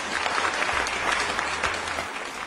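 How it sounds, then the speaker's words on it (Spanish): Dense, steady audience applause filling the whole clip, a continuous wash of clapping heard from close by. "Desde ahí se está escuchando todos los aplausos."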